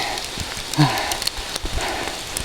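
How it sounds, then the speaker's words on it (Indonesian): Rain falling during a hike toward Mount Krenceng: a steady soft hiss of drops on surfaces with scattered taps and patters, fairly quiet and continuous throughout. "biar ketangkap suasana hujan pas perjalanan menuju Gunung Krenceng"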